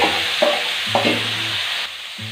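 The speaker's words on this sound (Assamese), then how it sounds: "লৰাই পেলাই সিজাই টুকি থোৱা কঁঠালৰ মুচিখিনি দিলোঁ।" Boiled jackfruit pieces sizzling in oil in a pan while being stirred, a steady close frying hiss with a few soft scraping strokes of the spoon.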